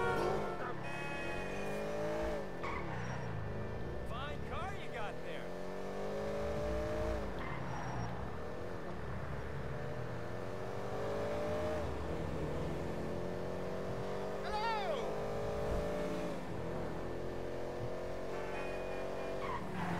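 A car in Grand Theft Auto V revs and accelerates continuously, its engine rising and falling through gear changes, with repeated tire squeals and skids over steady road noise.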